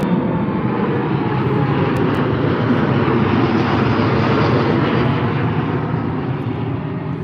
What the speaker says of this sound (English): But 787 with British Airways heading out to Kentucky,